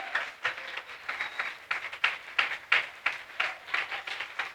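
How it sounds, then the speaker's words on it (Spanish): A church congregation claps together during a worship service, with a strong rhythmic beat of unison hand claps at a steady pulse and moderate loudness, echoing slightly and carrying no speech. "Bríndele un fuerte aplauso al Rey"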